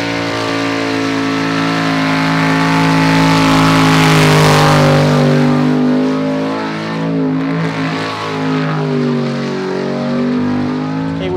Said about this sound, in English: Bit of a big rev. Here we go, it's a big V8.